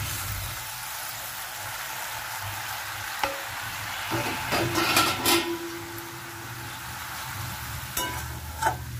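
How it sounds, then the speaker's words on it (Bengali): Water poured into frying spice paste for a katla fish tel jhal sizzles steadily and loudly, with occasional clinks and scrapes of stirring and no talking. "এবার আমি জলটা দেবো।"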